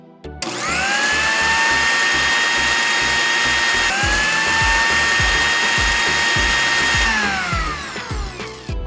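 A miniature grinder grinds Oreo biscuits with a loud, steady mechanical whir and rattling, running continuously for several seconds before winding down.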